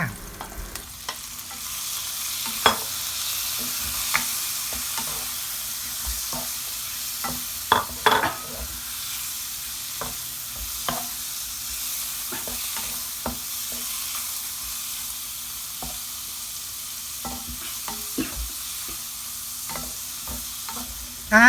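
Banana prawns stir-fried in a pan with bird's eye chillies give a low, steady sizzle, dotted with frequent clacks and scrapes of a spatula against the pan, close and unaccompanied by talk.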